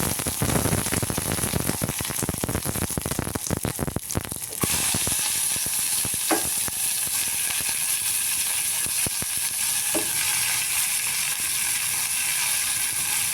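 String beans stir-frying in coconut oil with mustard seeds, curry leaves and green chillies, giving a loud continuous hiss and sizzle with rattling, clattering bursts early on, then a steadier sizzle and a few faint clicks.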